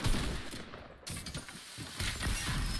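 Shotgun blasts in a video game, a dense run of loud booming shots and crackling gunfire that keeps going through the short clip.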